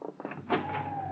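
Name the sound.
door opening, radio drama sound effect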